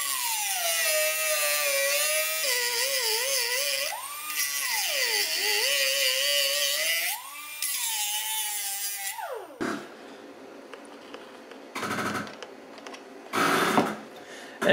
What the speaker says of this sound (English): I'll just run the grinder down, make a rough notch, so I don't have to mill away as much material